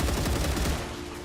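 Assault rifle fire in StarRupture, a steady rapid stream of loud, close automatic shots with no talk over it.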